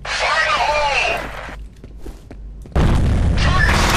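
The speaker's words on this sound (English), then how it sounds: "I'm gonna throw a grenade." A loud grenade explosion in the video game F.E.A.R. bursts in near the end as a dense, sustained blast, following a stretch of gameplay sound effects and quieter movement.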